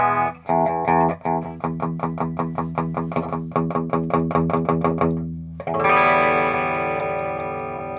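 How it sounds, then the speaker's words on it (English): Electric guitar through an equalizer pedal on a Boss pedalboard: a rapid series of picked, palm-muted notes with a driven, boosted low end, then a sustained ringing chord that fills the last few seconds, with no talking. "Let's hit the equalizer."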